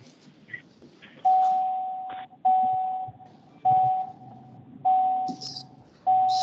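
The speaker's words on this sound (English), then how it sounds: "We can hear your car door. Your car door alarm." A car door alarm beeps over a phone line during a remote meeting: five evenly spaced, steady mid-pitched tones about a second apart, each starting sharply, over faint background noise.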